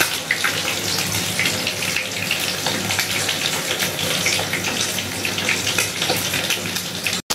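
Hot water poured over glass noodles for chicken soto, a steady, even gushing and splashing of water into a bowl, continuous and close for several seconds before cutting off abruptly.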